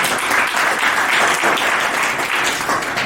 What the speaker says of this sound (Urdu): ان کے لیے تالیاں ہو جائیں